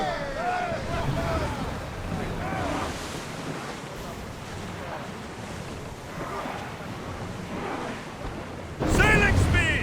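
Ship under sail on open sea in Assassin's Creed Odyssey, with steady rushing waves and wind noise throughout at moderate level, then a louder swell of water and game sounds in the final second; harmonic tones from game music or voices sit faintly underneath.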